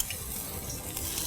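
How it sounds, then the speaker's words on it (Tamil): Gravy with tomato sauce and pepper sizzles and hisses steadily in a pan, a soft continuous frying sound with faint stirring, close and alone. "போட்டு ஃப்ரை பண்ணுறேன்"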